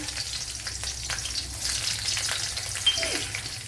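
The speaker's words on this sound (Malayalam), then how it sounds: "ഓയില് ചൂടായിട്ടുണ്ട്. അതിലേക്ക് വറ്റൽമുളക് ഇട്ട് കൊടുക്കാം. അതുപോലെ കറി ലീഫ് ഇട്ട് കൊടുക്കാം. 3 വെളുത്തുള്ളി ഇട്ട് കൊടുക്കാം." Dried red chillies, curry leaves and garlic frying in hot oil for a carrot and spinach thoran, giving a continuous crackling sizzle with small pops, moderately loud and steady.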